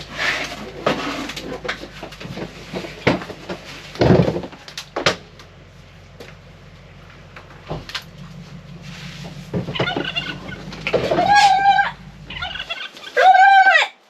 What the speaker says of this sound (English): I got told that I could hold the chicken